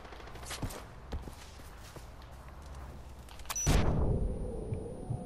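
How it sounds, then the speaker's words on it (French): A sudden, loud explosion in Far Cry 4 bursts out after a stretch of quieter footsteps and scattered knocks, leaving a rumbling decay. "Je me suis explosé, mais je crois qu'il est mort."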